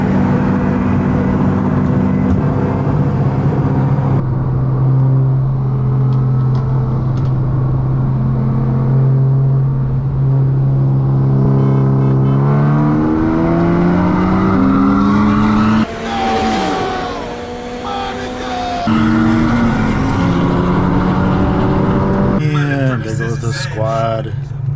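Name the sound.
BMW M340i and 500hp GTI cars accelerating in a race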